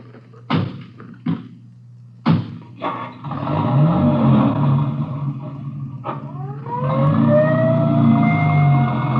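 Radio drama sound effects: a couple of car door thumps, then a car engine starting and running, followed by a rising wailing siren over the engine, loud and close.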